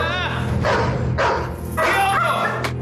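A strong, agitated dog barks in loud repeated bursts close by, the barking mixed with a voice talking over it.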